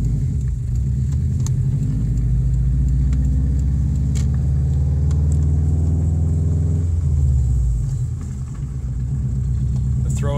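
A cheap turbocharged all-wheel-drive car pulls along in third gear, its engine a steady low drone with a slight shudder, easing off briefly near the end before picking up again.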